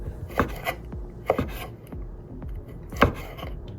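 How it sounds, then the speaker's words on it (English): A knife slicing vegetables into long julienne strips on a cutting board, with a few distinct cuts and scrapes at uneven intervals, close and moderately loud. "Cut it into strips and then now cut it to long strips."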